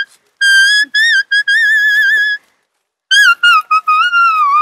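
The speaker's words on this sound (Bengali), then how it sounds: "দেখুন খুব সুন্দর পাতা দিয়ে বাঁশি বাজাচ্ছে।" Someone plays a leaf held to the lips like a flute on a forest trail to Buxa Fort, producing bright, clear, wavering melodic phrases in two bursts separated by a short pause.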